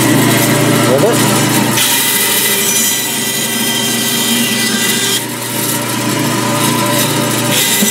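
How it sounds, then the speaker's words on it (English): An electric meat saw cuts through pieces of wood with a loud, continuous buzzing grind that stays close and steady throughout. "I'm just going to cut a couple pieces of wood"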